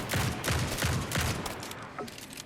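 Bouncing bullets fire in rapid bursts in the gritty DOOM-inspired roguelike Grind Survivors, a dense, loud volley of shots that thins out toward the end.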